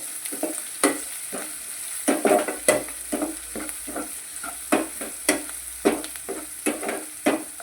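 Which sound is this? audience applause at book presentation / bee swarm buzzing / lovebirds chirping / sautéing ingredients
sautéing ingredients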